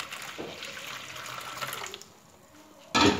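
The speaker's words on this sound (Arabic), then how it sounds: "غندير فيه الماء" Tap water runs into a plastic bowl for making traditional Moroccan harira soup, a steady broadband pour that gives way to a sudden louder gush near the end, heard alone without talk.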